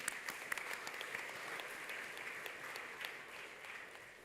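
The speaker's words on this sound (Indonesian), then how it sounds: "Kita kasih tepuk tangan yuk buat anak-anak kita yuk." A church congregation claps for the children during Sunday worship, a soft but steady patter of many hands with a few sharper individual claps standing out, heard from some distance throughout.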